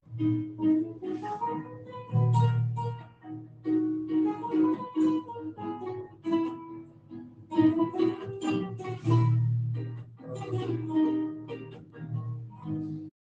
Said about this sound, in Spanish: un jovencito que cantaba y se acompañaba con su guitarra española